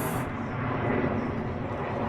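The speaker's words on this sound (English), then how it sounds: "Get this season underway as a jet flies over us." A jet aircraft passes over a football ground at the start of a match, a broad continuous roar covering the whole moment with faint voices underneath.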